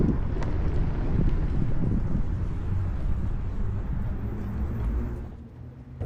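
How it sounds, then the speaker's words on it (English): An electric hub-drive all-terrain board rolls along a wooden boardwalk, giving a steady low rumble of wheels over the planks, with wind buffeting the microphone and no motor whine standing out. "you just hear the board rolling on the boardwalk"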